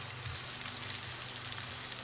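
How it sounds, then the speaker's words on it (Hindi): Onions frying in a pan for a juicy macaroni dish, giving a steady, dense, close sizzle with fine crackling spread across the whole span, even in loudness and without talking. "ये देखें, ये प्याज हमारी फ्राई हो रही है।"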